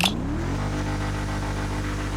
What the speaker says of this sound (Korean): 이제 이 녀석의 주행 성능을 보기 전에 먼저 엔진 소리 한번 들어보도록 할게요